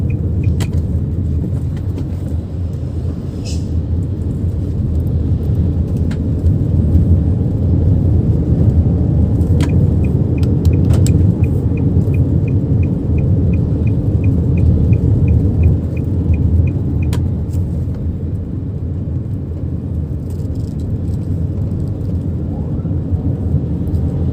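Nissan X-Trail T31 2.0 cruising out of town on a morning drive and shifting up to fourth gear, a steady low engine drone with road rumble inside the cabin, a faint ticking indicator, and no talk.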